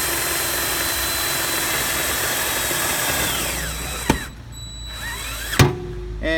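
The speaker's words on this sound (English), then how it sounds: "You're just gonna drill in." A power drill drives short sheet metal screws into a cabinet during a condensation correction kit install, with a steady loud whirring motor that winds down, followed by two sharp clicks.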